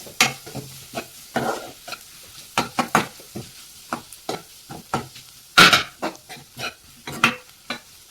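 Prawn curry masala with fennel seeds being stirred in a hot pan: a close, irregular series of spoon scrapes and clinks over a soft sizzle, with no talk.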